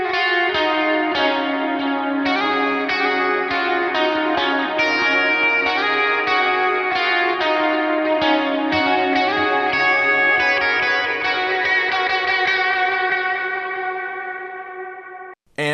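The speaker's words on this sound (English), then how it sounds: "So here's with the reverb." Lead guitar line played through a reverb effect, a sustained run of ringing notes with a wash of echoing tail, steady and loud for most of its length before fading at the end.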